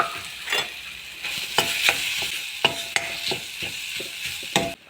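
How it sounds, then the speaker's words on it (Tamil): Grated coconut roasting in ghee in a kadai over a low flame sizzles steadily, broken by repeated scraping stirs and soft clacks of a spatula against the pan, close and fairly loud. "கடாய் வச்சுக்கோங்க. நெய் கொஞ்சம் ஊற்றிக்கோங்க. சிம்மில் வச்சு இந்த தேங்காய் போட்டு நல்லா வறுத்துக்கோங்க."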